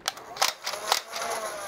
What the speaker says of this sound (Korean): 돌아가면서 찰칵찰칵 거리면서 진동이 좀 있거든요